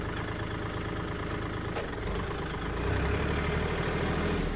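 A used Kubota L3218 tractor's engine runs at a steady idle, a constant low rumble that grows slightly louder and heavier partway through, with no voices.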